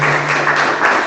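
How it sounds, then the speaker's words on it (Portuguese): A congregation applauds in a church service, a brief burst of steady, dense clapping filling the hall. "dê um aplauso ao Senhor, a Ele, toda a honra e toda a glória"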